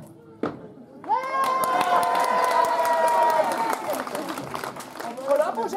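An audience at a medieval festival in Moncontour imitates a wildly cheering crowd, giving a sustained burst of loud shouts, whoops and clapping that swells after a single thump, holds for several seconds, then thins out.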